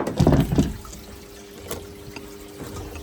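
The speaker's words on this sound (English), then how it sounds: "This pump on, where you're filling the bucket with water currently." A pump pouring water into a bucket: a splashing, gurgling burst at the start that settles into a quieter steady trickle and light dribbling, with no voices.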